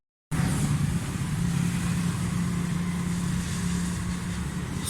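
A Suzuki Alto 1000cc engine with slightly loose tappets and a carburetor fault idles close by, starting abruptly into a steady, even drone with a fine rapid ticking texture throughout.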